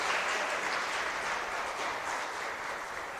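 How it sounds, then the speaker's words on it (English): Steady, soft applause from a seated audience at a tourism youth expo panel, a continuous even wash of clapping heard from some distance without any speech. "Please give her a warm round of applause."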